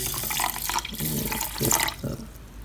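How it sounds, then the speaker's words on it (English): Water poured into the base of a small white Judge 300 ml mini rice cooker holding a little rice, a steady close splashing pour with gurgles lasting a couple of seconds, no talk. "I've filled up a bit of rice in the base in the bottom here, and then I'm going to put in water."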